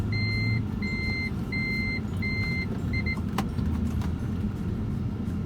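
A Toyota Prius 1.8 Hybrid with an e-CVT gearbox reverses into a parking space, its reversing sensor giving five evenly spaced beeps over a low, steady engine and road hum.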